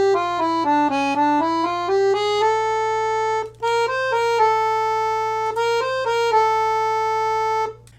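A 120 bass accordion plays a phrase over a sustained low bass drone, its reedy melody stepping through short notes before settling into a long held A, close and clear with a brief dip midway.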